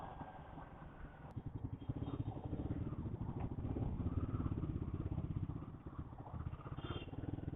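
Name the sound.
motorcycle with liquid-cooled engine riding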